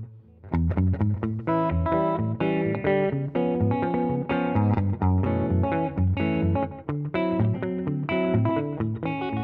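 An electric guitar plays a steady run of notes through a slapback delay pedal, each note followed by one short, tight echo in a rockabilly style, loud and continuous.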